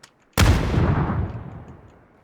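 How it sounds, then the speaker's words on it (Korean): A grenade explodes in PUBG with a sudden loud boom that follows a faint click, then a long rumbling decay that fades over about two seconds. "나이스 수류탄"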